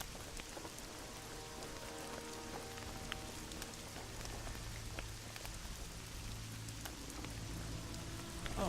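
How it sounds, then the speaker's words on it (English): Steady rain falls in The Witcher 2 video game, a continuous dense patter of drops on surfaces with a low rumble beneath, even and unbroken throughout with no voices. "we'll just stand here in the rain"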